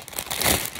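Plastic packaging crinkling in a short close burst that swells in the middle and fades, with no talking.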